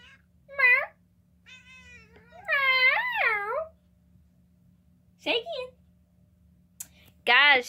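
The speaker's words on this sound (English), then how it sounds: "you just got my cat talking to you" Pet cat meowing toward the camera, several short and longer meows spread across the clip, close and fairly loud, with soft quiet gaps between calls.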